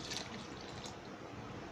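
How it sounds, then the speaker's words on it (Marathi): A glass of water is poured into a mixer jar while making masala buttermilk, a soft, steady close-up trickle and splash running unbroken for a couple of seconds. "हे बघा 1 ग्लास पाणी"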